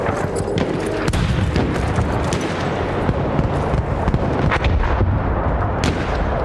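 Artillery fire in the Battlefield 1 video game: dense, continuous booming blasts and gunfire crackle layered into a loud, relentless battlefield roar.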